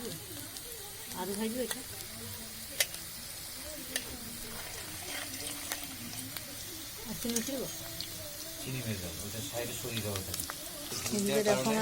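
Vegetables with garam masala fry in a wok for Bengali-style fried rice, a steady close sizzle with occasional stirring clicks while a voice talks over much of it.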